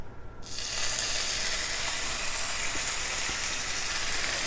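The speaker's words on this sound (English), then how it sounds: "I'm going to put each strip of bacon in individually" Thick-sliced bacon strips hitting a preheated skillet on a low stove setting, bursting into a loud, steady sizzle after a brief quiet start and hissing evenly throughout.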